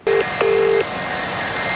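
A mobile phone placing a call, heard as two close, clear electronic tones, a short one then a longer one, over steady background hiss, with no talk.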